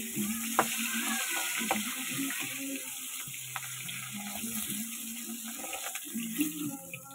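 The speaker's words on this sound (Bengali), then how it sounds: "এই যে মাছ ভাজা হয়ে গেছে, মাছগুলোকে তুলে নিচ্ছি" Fish frying in oil in a wok, with a soft, steady sizzle and light bubbling heard fairly faintly alongside a few clinks of utensils.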